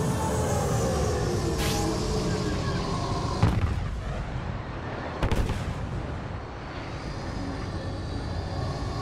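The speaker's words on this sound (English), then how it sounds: "Fire on that Imperial ship before it's too late." Blaster fire against an Imperial ship in the Star Wars Battlefront video game, a few sharp bursts and blasts over a steady roar of engines and battle noise, with no talk.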